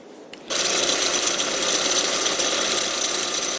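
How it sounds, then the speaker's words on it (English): A drill bores into the metal ferrule of a spindle gouge made from an old file, starting abruptly with a steady loud whining grind that holds unbroken for about three seconds before cutting off. "Now I gotta drill a hole in there."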